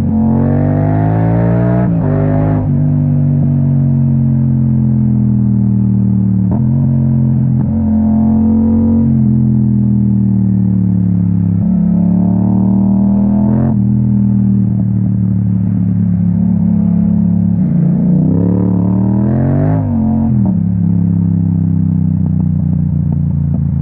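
A Yamaha MT-07 motorcycle fitted with an Akrapovic exhaust is ridden through traffic, its engine revving up and easing off repeatedly in a loud, close, throaty drone for the whole stretch, with no talking.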